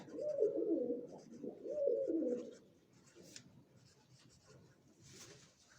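Pigeons coo in a Mykolaiv region loft, soft low throaty rolls in two clear bursts followed by quieter murmuring, with faint bird chatter and light rustling behind them.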